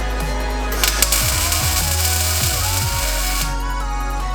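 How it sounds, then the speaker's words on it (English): Welding on the rear tail light panel of a 1974 Dodge Challenger during restoration: a steady, loud crackling hiss runs throughout, with a few short sharp bursts and low mechanical whirs underneath, no talk. "Yeah, that's welding good. Actually, it might even go a little hotter."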